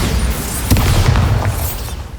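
Bombarda spell explosions in the video game Hogwarts Legacy: a loud, booming blast with a sharp hit near the start of the second half, then rumbling low-end debris, alone and close.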